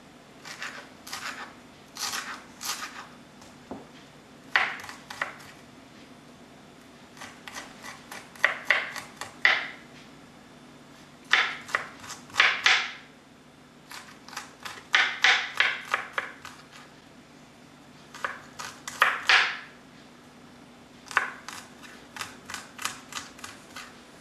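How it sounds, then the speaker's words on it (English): Dill and garlic are chopped with a knife on a board, in quick bursts of crisp, close chopping strokes separated by short pauses. "Meanwhile, I'm gonna cut dill"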